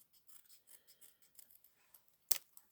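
Scissors snip through paper in a quiet indoor space, a rapid run of soft close cuts followed by one sharper, louder snip near the end.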